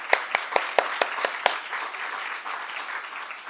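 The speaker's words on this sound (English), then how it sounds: "make a round of applause for Skylight for letting us be here" At a bookstore reading event, a few sharp, distinct claps ring out and then blend into a moderate, slightly distant round of audience applause that continues at an even level.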